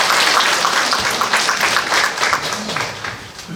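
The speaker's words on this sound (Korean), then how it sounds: "지금 박수 부탁드리겠습니다" An indoor audience at a regional education forum bursts into dense applause, many hands clapping loud and steady before slowly thinning out, with faint voices mixed in.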